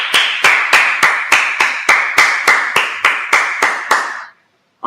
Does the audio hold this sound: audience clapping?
yes